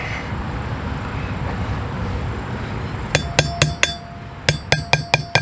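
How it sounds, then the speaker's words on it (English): Sharp metallic hammer taps seat a wheel bearing seal, starting about halfway in, first a run of five fairly even strikes, then a brief pause and another quick series, over low background rumble. "Let's tappity tap the seal in."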